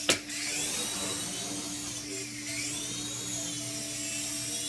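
Syma Speed S5 toy helicopter flying indoors, its small motor and rotor giving a steady high-pitched whine that rises and dips slightly with the throttle, close and continuous after a brief knock at the start.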